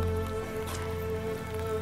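Rain falls steadily on a surface, a soft, even patter over a low steady hum, brief and with no voices.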